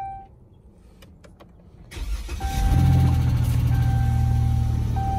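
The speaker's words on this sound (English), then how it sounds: "he's probably gonna crank right up too" A car cranks and fires up at an insurance auto auction in Atlanta, where the lot holds Hellcats and SRT models. Quiet shuffling comes first, then a short crank, and the engine catches into a loud, steady idle with a faint tick, close by, with no talk.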